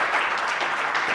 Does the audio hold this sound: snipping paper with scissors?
no